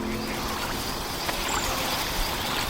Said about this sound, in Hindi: इस तरफ सूर्योदय हो रहा है और इस तरफ चांदोली डैम से वारना नदी का पानी बाहर आ रहा है और कूल तरीके से बहती जा रही है